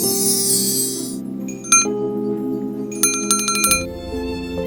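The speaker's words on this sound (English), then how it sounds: "And now I can grab the doorbell." Bright bell-like chimes ring out in a few separate bursts over a steady synthetic musical backdrop, like a doorbell being pressed in the video game Love Chronicles: The Spell.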